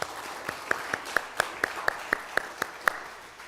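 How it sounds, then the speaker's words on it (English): An audience gives a round of applause: about a dozen distinct, evenly spaced claps ring out at a steady rhythm, fairly close and moderately loud, with no voices over them. "I think a round of applause is appropriate."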